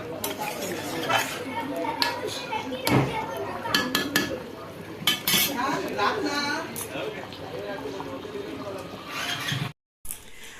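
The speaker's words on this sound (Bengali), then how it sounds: "মাংসটার ঝোলটা অনেকটা টেনে এসছে, ওর জন্য বারবার নাড়াতে হচ্ছে" A spoon stirs a pot of meat curry with large pieces of meat and a thickened, reducing gravy, clinking and scraping against the metal in repeated, uneven strokes, with people talking throughout.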